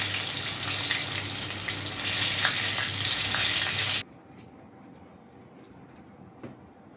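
Crispy chicken pieces deep-frying in hot oil give a loud, dense, steady sizzle that cuts off abruptly about halfway, leaving a quiet background with a faint clink.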